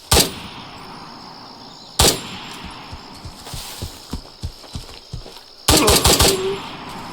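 Gunfire in the military video game Incursion Red River: sharp single shots, then a run of quieter irregular pops, ending in a loud rapid burst of automatic fire, all close.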